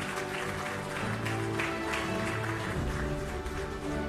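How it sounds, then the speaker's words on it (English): Audience applause at a business excellence awards ceremony as runners-up are announced, a dense steady wash of clapping filling the hall for about four seconds, with music or tones underneath. "Can we have a round of applause for Escorts Kubota Limited?"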